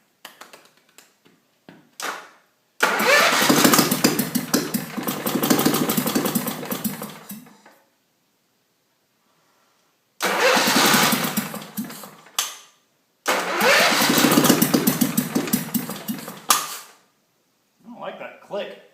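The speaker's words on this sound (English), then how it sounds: "Better put a slosh of gas in the carb just to kind of prime her a little." A gasoline engine on a wood chipper, primed with gas in the carburetor, cranks and fires in several loud, rough bursts separated by silent gaps, each run sputtering out after a few seconds.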